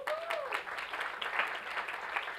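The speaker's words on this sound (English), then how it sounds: "Give Hannah a round of applause." Applause from the audience at a marketing conference keynote, a short spell of scattered clapping at moderate distance, with a brief faint whistle-like tone at the start.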